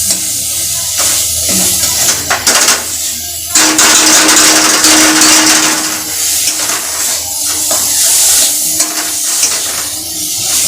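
Dal lentils fry in a hot pan, giving a steady, loud, close sizzle with bursts of crackle and scraping stir noise throughout.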